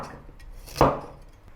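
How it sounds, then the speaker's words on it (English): A single sharp knife chop through a carrot on a cutting board, cutting it into wedges for a Thai vegetable stir-fry; one crisp close thunk amid quiet. "The second one, carrot, cut it into wedges"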